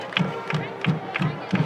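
A high school football crowd at Spring Grove versus Dallastown cheers in loud, rhythmic bursts, about three per second, that sound like chanting or stomping from the stands.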